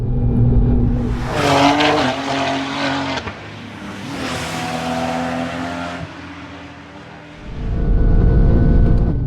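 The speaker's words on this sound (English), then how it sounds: "Milltek exhaust livens up the S58, giving a sharper voice inside the cabin." A BMW M2 race car's S58 engine roars loudly through a Milltek exhaust at the Nürburgring, revving up and shifting through gears with a rasping note, easing off before surging again at the end.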